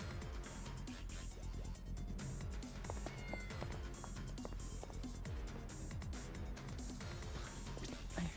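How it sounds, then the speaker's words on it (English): Cat meowing inside the Yakuza: Like a Dragon video game, faint short cries scattered within a dense, steady wash of game music and ambient sound. "Yeah, no, I know I'm hearing a cat."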